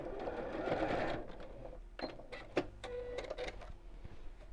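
A sewing machine makes a few short stitching bursts on the side of a child's drawstring backpack to tack a pocket in place, close-up whirring broken by handling clicks and pauses.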